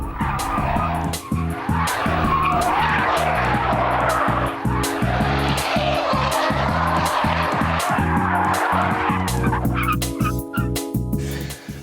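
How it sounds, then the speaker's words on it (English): A saloon car spins out on a test track, its tyres skidding and squealing in a long, loud, continuous screech, with a rapid pulsing engine rumble underneath throughout. "And even when I drove the saloon faster and faster, all it would do was spin."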